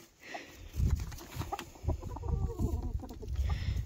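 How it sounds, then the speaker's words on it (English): Chickens cluck in short, irregular bursts close by, with some soft background rustling and a few scattered calls overlapping. "Happy chickens."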